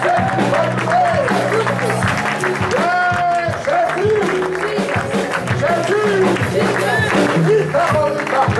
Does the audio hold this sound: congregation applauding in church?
yes